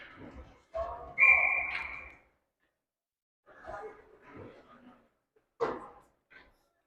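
A referee's whistle at a 13U ice hockey game gives one short shrill blast amid rink noise, thumps and clatter, with other brief sounds following after a gap.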